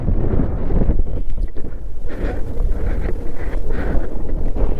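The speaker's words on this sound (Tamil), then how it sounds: "இந்த காற்றுக்கு நம்மளை அப்படியே தூக்கி எடுத்துன்னு போய் அந்த பக்கம் தள்ளி விட்டுரும் போல" Strong, steady wind roars and buffets continuously on a high mountain pass in the Zanskar Range, a broad rushing noise with gusty surges throughout.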